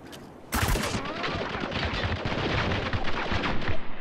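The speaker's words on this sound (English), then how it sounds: "Get him, shoot him." Rapid, dense gunfire from the video game Spec Ops: The Line erupts after a quiet start and keeps crackling in loud, overlapping bursts to the end.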